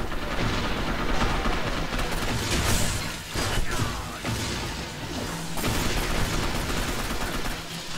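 Gunfire in Gotham City Impostors, a loud continuous barrage of shots and crashing impacts with several sharper bursts mixed into busy multiplayer combat noise.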